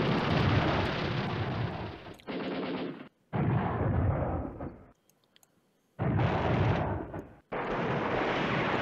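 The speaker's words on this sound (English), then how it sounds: "I have an airstrike." Airstrike explosions in the Command Ops 2 wargame come as several heavy, rumbling blasts of noise, each lasting about a second or more, separated by short silent gaps.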